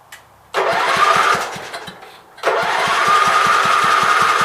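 Small engine fed fresh gas cranking and catching twice, each start breaking into a loud steady chugging run close by, with a brief dip between attempts.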